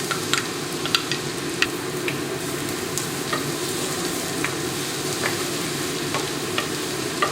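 Minced garlic fries in melted butter and oil with a steady close sizzle, broken by scattered light clicks as it is stirred around the pan.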